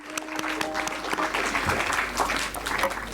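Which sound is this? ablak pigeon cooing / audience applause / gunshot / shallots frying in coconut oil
audience applause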